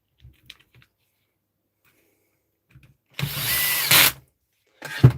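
During a repair job in a workshop, a power driver sets screws in one sustained whirring burst and a shorter second one. Faint clicks and taps come first, all close by in a quiet room with no talking.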